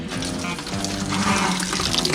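Old gasoline runs out of the opened drain of a 1951 MG TD in a steady splashing stream, close and continuous, with no talking.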